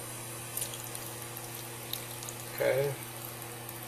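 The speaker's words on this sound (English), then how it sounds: "fill these little containers up with water here" Water pours into small containers for a homemade water battery experiment, a brief splashing fill over a low steady hum, with a person speaking briefly around it.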